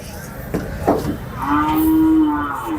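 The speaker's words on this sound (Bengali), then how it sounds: "দেখতে পাচ্ছেন এই যে আরো একটি গরু।" A cow at the Ashulia cattle market gives a loud, drawn-out moo lasting over a second, preceded by a few short thumps and background market murmur.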